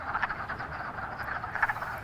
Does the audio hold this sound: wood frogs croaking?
yes